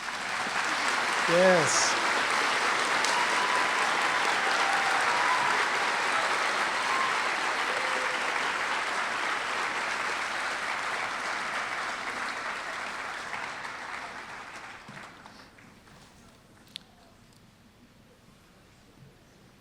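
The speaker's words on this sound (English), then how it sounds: "I would ask that you hold your applause until all of the students' names have been called." Audience applause at science fair awards, a loud, dense round of clapping that holds steady for many seconds, then fades out near the end. A short spoken word sounds briefly at the start.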